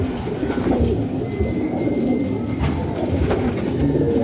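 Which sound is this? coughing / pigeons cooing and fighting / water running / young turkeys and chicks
pigeons cooing and fighting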